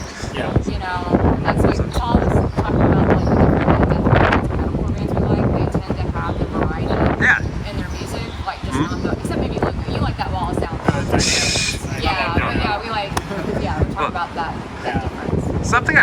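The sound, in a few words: wind blowing into microphone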